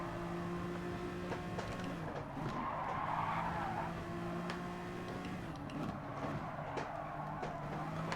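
Tires skid and squeal on a Honda NSX race car in a racing video game, a steady engine drone with a sustained screech swelling through the middle, continuous and fairly loud.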